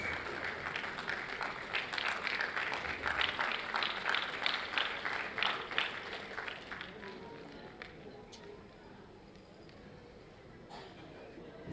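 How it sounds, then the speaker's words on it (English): Audience applause for a guest speaker at a school annual day celebration, a dense crowd clapping that swells for several seconds, then fades to scattered claps and quiet room noise. "Let's give her a huge round of applause."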